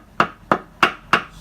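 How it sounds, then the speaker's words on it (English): Four sharp, evenly spaced hammer blows on metal while seating a rubber front valve gasket on a 1996-99 Infiniti I30, close and loud, each strike ringing briefly. "you'll hear it still sounding rubber until it hits the metal with your hammer"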